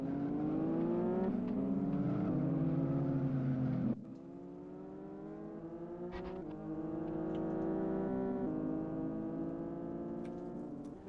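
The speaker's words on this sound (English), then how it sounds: "As we see a course car there, navigating its way around." A racing car in the Live for Speed driving game circles the track, its engine droning loud and steady with a rising pitch, a brief cut near four seconds, then climbing again through the gears.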